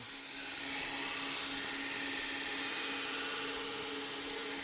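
Knife tip being sharpened on a 120 grit belt sander, a loud, steady abrasive grinding hiss that swells in after a brief start and holds continuously over the belt's hum, with no talking.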